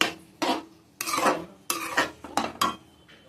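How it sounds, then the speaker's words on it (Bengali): A utensil stirs Malabar spinach dal with slit chilies in a pot, making about six distinct scraping, clattering strokes in an uneven rhythm, close and clear with no talk. "এইবার চিড়ে রাখা লঙ্কাটা দিয়ে আমি নেড়ে চেড়ে নামিয়ে নেব।"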